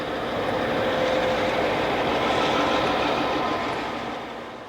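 Illinois Central train number 123 from St. Louis to Birmingham rolls past near Centralia in February 1989, a loud steady rumble of wheels and cars that holds strong before fading slightly at the end.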